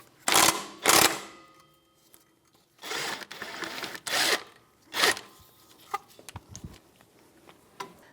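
Ratcheting and rasping bursts as a 17mm socket turns the caliper bracket bolts on the rear brakes of a 2010–2023 Toyota 4Runner, coming in several separate close pulls with short pauses and lighter clicks between them.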